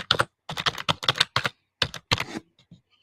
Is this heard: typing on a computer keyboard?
yes